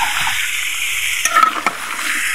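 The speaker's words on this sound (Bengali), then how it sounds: "এভাবে 2 মিনিট ভালোভাবে নাড়াচাড়া করে নিতে হবে।" Green papaya fries in a pan with onion and chilli, a constant hiss of frying with a cluster of scraping stirs from a knife in the middle.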